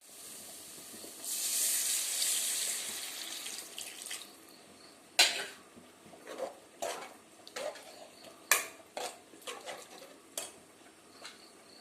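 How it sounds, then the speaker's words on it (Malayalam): A short stream of water pours into a pan of egg curry, followed by scattered scraping and clinking of a utensil stirring against the pan. "ആവശ്യത്തിനുള്ള വെള്ളം ചേർത്ത് കൊടുക്കുക"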